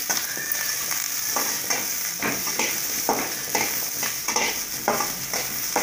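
Tomatoes and dried red chillies sauté and sizzle steadily in a pan, with a constant frying hiss under repeated stirring scrapes at a regular rhythm, close and fairly loud, with no voices.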